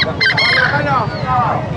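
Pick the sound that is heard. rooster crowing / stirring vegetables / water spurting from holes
rooster crowing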